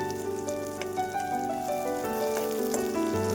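Onion, coconut and masala roasting in a pan for a rustic spicy brinjal curry give a soft, continuous crackle and sizzle. The sound stays even and fairly quiet, with no voices over it.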